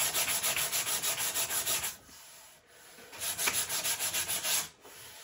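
Sandpaper works a hand-carved wooden guitar neck in quick, rhythmic back-and-forth strokes, close and loud, pausing briefly partway before the rubbing resumes.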